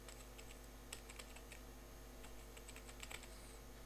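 Typing on a computer keyboard while filling in an online clerk job application form, light steady key taps in small clusters over a constant low electrical hum, with no voices.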